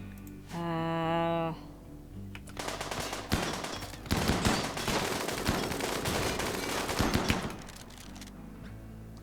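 Rapid bursts of gunfire from a Rimworld colony skirmish while a colonist is shot at, a dense, crackling volley running for several seconds after a short tonal game sound, with no talk.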